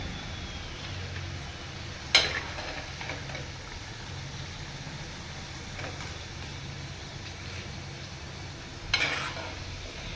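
Potatoes fry in oil with a soft, steady sizzle throughout, broken by a couple of brief clinks of stirring.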